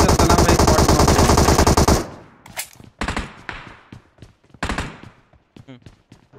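Sustained automatic gunfire from the mobile battle royale game PUBG Mobile hammers for two seconds, then breaks into several shorter loud bursts and single shots, with faint talk underneath.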